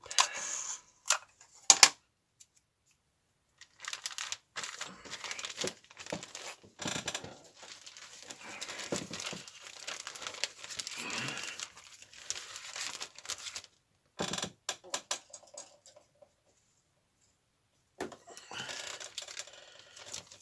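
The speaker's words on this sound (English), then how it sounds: "Let's have some masking tape." Masking tape is handled while building a Revell Unimog model kit: close, intermittent crinkling and peeling rustles in short bursts separated by silent gaps.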